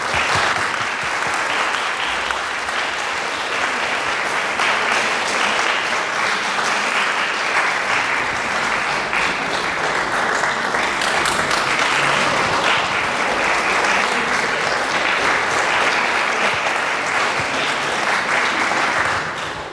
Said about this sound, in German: Und deswegen möchte ich einen kurzen Applaus für sie.